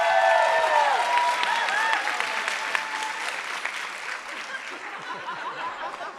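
An audience at a home care and hospice annual meeting claps and cheers, with sustained applause and a few whoops and chuckles that slowly taper off.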